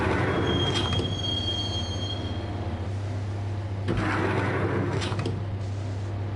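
Max Payne game train ride: steady low rumble of a subway car rolling along with high metallic wheel squeals and brief clanks near the start and around the fourth and fifth seconds, no voices.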